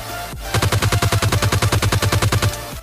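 Automatic gunfire in the PUBG Lite video game: a fast, evenly spaced burst of roughly twenty loud shots in about two seconds, close and alone without talk.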